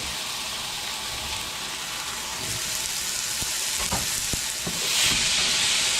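Tomato, mushroom and garlic frying in a pan, a steady broad sizzle running throughout with occasional stirring clicks and scrapes, close and fairly loud, rising slightly near the end, with no talking.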